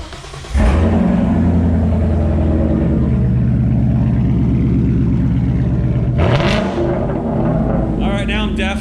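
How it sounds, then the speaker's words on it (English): A Mustang 5.0 fitted during a Whipple supercharger install cranks and fires up, then settles into a loud, rumbling, lumpy idle before a sharp rev flares near the end, very close and overpowering. "Give it one last start up while it's all on motor."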